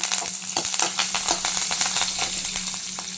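Garlic, green chilli and curry leaves fry steadily in hot oil with a dense, continuous sizzle and crackle, loud and close, with a few sharper pops and no voices.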